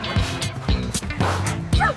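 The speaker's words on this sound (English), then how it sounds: "D is for dog, wag your tail." A dog gives a string of short, close barks and yips, with a few whimpering tones in between, sounding lively and fairly loud.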